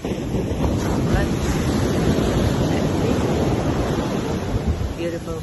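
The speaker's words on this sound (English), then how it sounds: "welcome to the beach" Ocean surf and strong wind at a beach during lockdown, a continuous loud roar of breaking waves with wind buffeting the microphone throughout.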